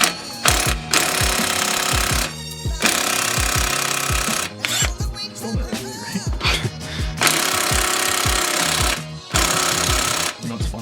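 An impact wrench working a 16 mm pinch bolt during an air spring install on an Audi C5 Allroad, loud rattling hammering bursts of a few seconds each, separated by short pauses, close up.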